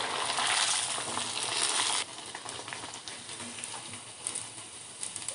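Konkan-style chicken vade (kombdi vade) deep-frying in hot oil over a medium flame, a dense, close hiss of sizzling that drops to a gentler, crackling bubble partway through.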